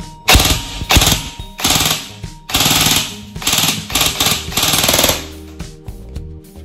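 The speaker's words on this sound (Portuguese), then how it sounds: "Vamos fazer aí uns disparos com ela, ver como é que ela funciona" Loud rapid bursts of full-auto fire from a G&G TR16 SBR308 airsoft electric rifle, several long strings of shots with brief pauses between, close to the listener.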